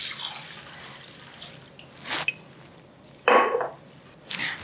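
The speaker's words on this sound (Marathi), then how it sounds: "2-3 वेळा स्वच्छ धुवून घेऊयात" Chana dal is rinsed with water in a pot, giving bursts of splashing and sloshing with a few clinks of the vessel between quieter drips.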